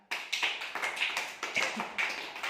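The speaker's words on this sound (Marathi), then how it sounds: "शाबास पियुष साठी टाळ्या वाजवा" Children clap for Piyush in a rapid, fairly even burst of about nine close claps over a couple of seconds, with no talking over them.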